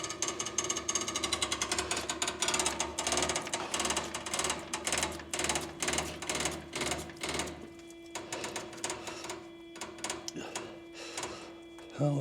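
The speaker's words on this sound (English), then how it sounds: "We're just gonna pump the injection pump, try and get her snort of fuel." A hand pump working the injection pump on a John Deere 9500 combine during a cold start, a rapid series of sharp mechanical clacks that slows and thins out toward the end.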